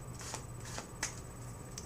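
A deck of playing cards is shuffled and dealt at speed, quick soft riffles and snaps repeating in a quiet room, faint and close.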